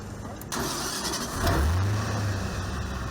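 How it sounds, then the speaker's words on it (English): Rescue boat engines start up during flood rescues, catching with a sudden jump in sound and then revving into a rising, throaty roar over steady background noise. "Revving their engines."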